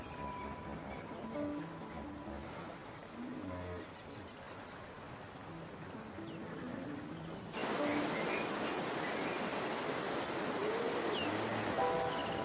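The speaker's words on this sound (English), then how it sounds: "The Mara River." The Mara River flows murky and turbulent, a steady broadband rush of moving water heard up close, growing louder and brighter partway through.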